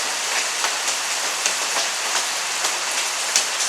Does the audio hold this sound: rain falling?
yes